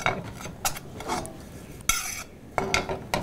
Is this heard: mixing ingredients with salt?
yes